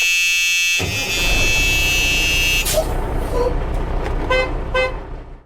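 A stock iMovie bus horn sound effect blares in a long, loud, steady honk, then breaks into several shorter toots, with nothing else heard over it.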